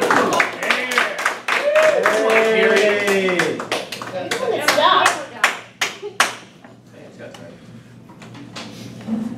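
An audience at a club election meeting claps in a loose, scattered round, sharp individual claps near the microphone, first mixed with a voice and then continuing alone before fading to a few last hits.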